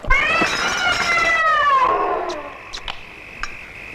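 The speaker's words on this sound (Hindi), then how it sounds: "इस बिल्ली को खाने की टेबल से दूर रखा करो" A house cat gives a long, loud, wavering meow that rises and then falls, followed by a few faint clicks and bumps in a quiet room.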